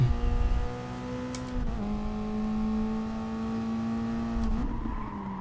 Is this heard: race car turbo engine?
yes